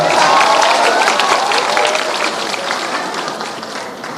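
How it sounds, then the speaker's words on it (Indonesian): Lively applause and crowd noise from an audience at a leadership talk event, dense clapping that is loud at first and gradually fades, with voices mixed in. "Tepuk tangan dong buat Pak Ganjar."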